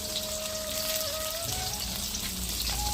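Onions, green chilies and curry leaves frying in hot oil in a pan, a dense steady sizzle with a faint whistling tone, close and without talking.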